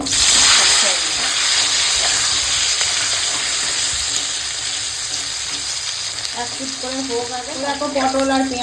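Hot oil sizzles loudly and steadily in a pan on a home stove, a close, continuous hiss with faint stirring, and a voice briefly joins near the end.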